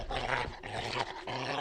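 Mod beast hyenas fitted with implanted electric generators in the game Vivisector, giving a short, close, dog-like snarling growl in several rough bursts.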